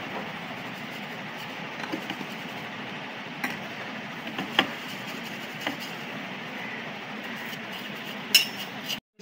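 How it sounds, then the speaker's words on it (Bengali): Flour and baking powder are sifted through a sieve for a banana cake, a steady close scratchy rustle broken by light metallic taps and clicks. "এখন এটা আবার ছেড়ে নিচ্ছি।"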